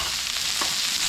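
Vegetables including cabbage, yellow squash and mushrooms sizzle steadily in a hot wok, a continuous close frying hiss with no voices.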